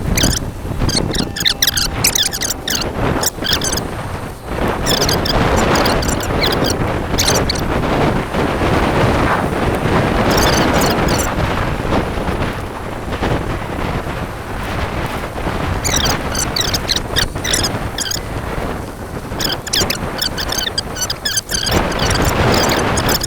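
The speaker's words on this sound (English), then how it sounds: "The wind is from the south, and it's pretty brisk." Brisk southerly wind gusting outdoors, roaring and buffeting against the microphone steadily and loudly for the whole stretch, with no voices over it.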